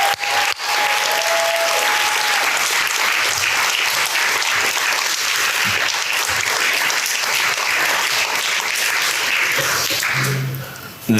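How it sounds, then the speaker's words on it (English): An audience gives a long, steady round of applause in a church-style gathering, loud and dense clapping that continues unbroken before fading near the end. "Would you give him a round of applause, please?"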